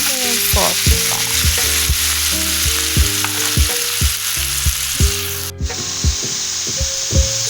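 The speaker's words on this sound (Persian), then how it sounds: "مرغام اینجا میذارم سرخ شه. یه قاشق سرخالی روغن جامد برداشتم، دارم با همون سرخ میکنم." Chicken sizzles in solid cooking fat in a pan, a continuous bright frying hiss broken by repeated wooden scrapes and stirring knocks at a close, fairly loud level.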